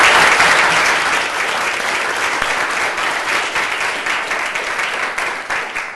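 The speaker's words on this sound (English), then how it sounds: "Let's give him a round of applause." Sustained audience applause for a panel moderator at a forum, loud and dense throughout, fading slightly toward the end with no talk over it.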